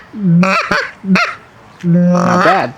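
A Haydell's Magnum Honker goose call blown in loud, close honks: two short clucks, then a longer rising honk, with a brief spoken comment in between.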